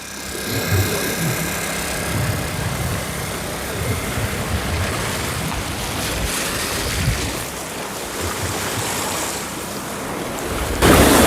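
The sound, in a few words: sea waves at high tide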